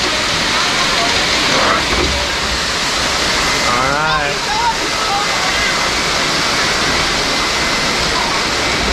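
Water gushes and roars steadily from a water ride at an amusement park, a loud continuous rush filling the whole stretch, with a brief voice and a faint mechanical whine partway through.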